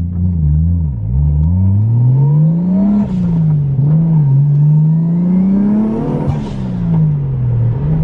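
A 1JZ-engined car on its first drive revs and accelerates hard, its engine note climbing in repeated sweeping pulls with brief dips between gear changes, loud and close throughout.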